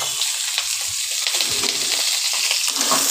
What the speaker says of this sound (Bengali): টমেটোগুলো দিয়ে দিচ্ছি, কাঁচা টমেটোগুলো